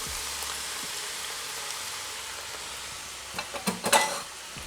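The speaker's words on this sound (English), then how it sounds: "So we got our nice hot oil, starting to get a little fragrant. We can get a sizzle." A quiet steady sizzle of frying in hot oil, then several louder crackling bursts as carrots, onions and garlic are stirred in near the end.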